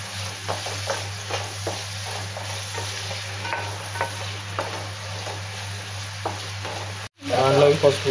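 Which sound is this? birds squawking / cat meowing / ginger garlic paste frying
ginger garlic paste frying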